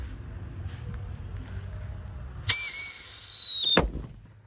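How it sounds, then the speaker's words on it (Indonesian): A Whistling Thunder firecracker lets out a loud, high, slightly wavering whistle for over a second, then stops with a sharp crack, outdoors against faint background noise. "Seperti itu Whistling Thunder suaranya bosku."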